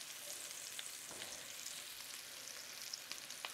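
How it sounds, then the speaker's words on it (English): Onions frying in a pan, a steady close sizzle with a faint crackle and the occasional stir, no voices over it. "So the onions, I want to cook the onions just so they go translucent."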